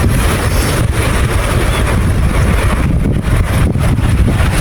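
Steady, loud wind roaring across the microphone with a constant low rumble, no voices, on the north coast of Scotland in February.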